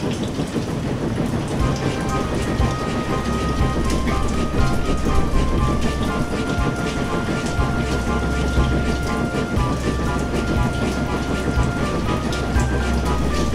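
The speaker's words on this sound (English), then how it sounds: "The rain beat in Percy's face." Steady, heavy rain pours continuously, a dense hiss with pattering drops and a low rumbling undertone throughout.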